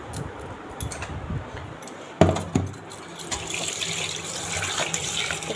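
Fish are rinsed under running tap water at a sink in the morning, with steady splashing and trickling, a sharp clatter of handling in the middle, then a continuous hiss of flowing water.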